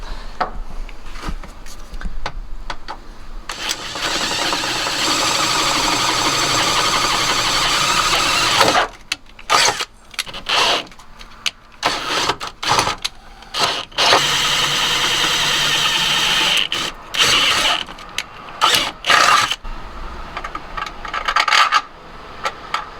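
A power drill with a 3/8-inch bit bores holes in a Subaru WRX during a race roll bar install, whining loud and steady in long bursts broken by short pauses and scraping, clattering handling noises.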